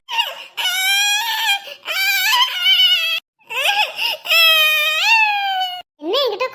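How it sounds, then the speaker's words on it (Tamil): A young child screams and wails in loud, high-pitched bursts while having their head shaved, close by, broken by short gasping pauses. "மொட்டை அடிக்கிற இடத்துல தான் ஒரு குழந்தைக்கு மொட்டை அடிப்பாங்க போல அதான் கத்துது"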